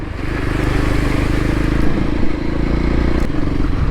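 A Voge 300 Rally motorcycle with a 14-tooth front sprocket rolls freely downhill, its engine a loud steady drone close to the rider, along with rattling chassis clatter and wind noise. No one talks.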